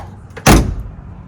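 The heavy door of a 1966 Ford Mustang swinging shut, a single solid close thud up close, preceded by a faint click of the latch.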